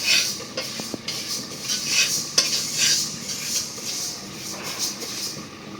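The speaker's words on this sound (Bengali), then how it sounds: "এই চুলায় ডালটা ভাইজা নিতেছি" Lentils scraped and stirred in a hot pan, with a steady dry sizzle and occasional clinks of a spoon against metal, close up and no talking.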